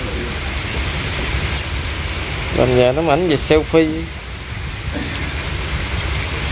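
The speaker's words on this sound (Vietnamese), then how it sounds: "Quá trời nó mưa." Heavy rain falls on a fishing raft on a river, a loud constant hiss throughout, while someone speaks briefly partway through.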